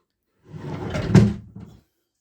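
Wooden drawers on a homemade cupboard sliding open and shut, a close scraping slide followed by a couple of knocking thuds, alone in a quiet room.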